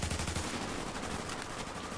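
Rapid automatic turret fire in The Division, a dense rattling burst of gunshots that fills the clip at moderate loudness, with no talk.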